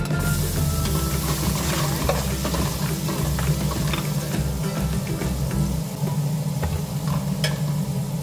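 Food sizzles and fries in a noisy, rattling pot before ginger is added, with steady crackle and intermittent scraping and clattering from stirring, close up.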